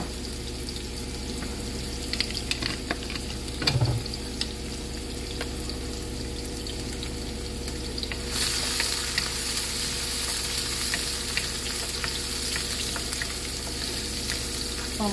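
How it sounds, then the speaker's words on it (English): Chopped celery fries in olive oil in a pan, a steady close sizzle and crackle that grows a little brighter partway through, with a brief stir. "We're going to add the celery along first and let that start softening. Right there in that olive oil."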